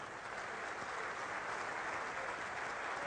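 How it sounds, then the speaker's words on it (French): An audience at a mining farewell event with a miners' choir applauds continuously, a dense, even wash of many hands clapping, steady and fairly close throughout. "Je demanderai à votre public et aux mineurs amis qui sont ici de vous applaudir une fois de plus"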